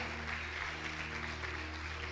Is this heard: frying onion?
no